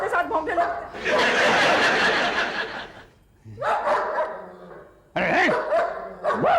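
An electronic dog-alarm gadget emits repeated loud barking bursts broken by short pauses, with people chuckling and talking around it.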